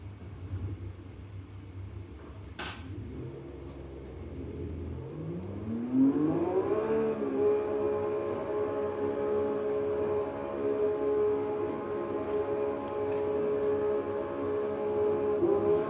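A car engine in the Automobilista 2 racing sim, with the clutch and drivetrain being tuned, rumbles low and then climbs in pitch as the throttle opens, settling into a steady sustained drone that carries on to the end.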